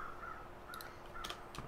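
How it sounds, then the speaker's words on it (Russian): Crows in The Long Dark video game give a few faint, scattered caws, short harsh calls repeating over quiet wilderness ambience. "Слышь, вороны моего волчка уже это"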